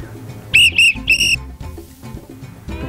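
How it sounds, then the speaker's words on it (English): A classic lifeguard pea whistle is blown in three short, shrill, trilling blasts close to the microphone, followed by quieter handling noise. "The classic lifeguard whistle."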